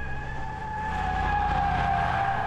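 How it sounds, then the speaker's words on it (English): Mercedes G500 tires squealing through a curve at about 50 km/h, a steady high-pitched screech holding for a couple of seconds over a low engine rumble, loud and close. "it can make the tires squeal just the way a Porsche 911 would when taking the same curve at 100 kilometers per hour"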